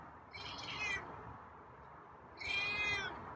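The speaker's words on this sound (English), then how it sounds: "It's a raspy meow" A feral cat gives two raspy meows about two seconds apart, close and clear over a quiet outdoor background.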